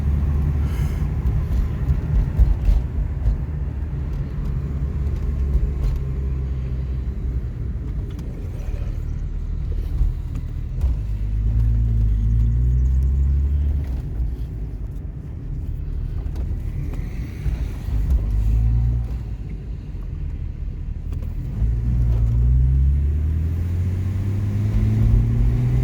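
Diesel engine of a 1997 BMW 325 TDS, a loud, steady low rumble with several rising revs as the car accelerates, heard close and without voices.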